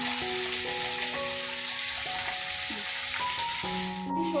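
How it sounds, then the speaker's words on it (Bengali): Potato pieces frying with salt in a hot pan of oil seasoned with black cumin, giving a steady, close sizzle and crackle throughout with no talking. "আলুটা একটু নুন দিয়ে ভাজা ভাজা করে নিই।"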